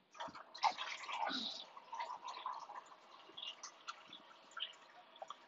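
Water runs and trickles into a cup, with splashy dripping and gurgling that shifts in pitch as it fills, close by and fairly quiet.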